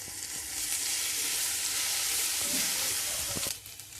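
Ivy gourd frying in a pan with a steady loud sizzle while being stirred, occasional scraping knocks of the utensil, the hiss dropping off sharply near the end.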